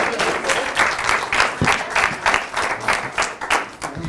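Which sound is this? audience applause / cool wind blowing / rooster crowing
audience applause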